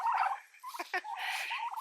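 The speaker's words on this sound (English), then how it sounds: "turkeys" Several farmyard turkeys gobble in short, bubbling bursts, loud and close, with brief pauses between calls and no talk over them.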